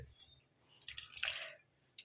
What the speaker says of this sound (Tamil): கொஞ்சமா தண்ணி விடுறேன்